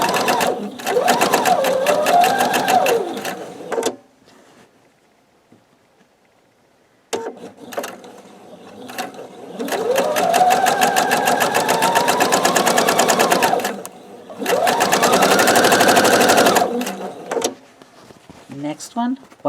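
A sewing machine stitching log cabin quilt strips runs in three loud, close bursts of rapid needle chatter, each rising and falling in pitch, separated by quiet pauses.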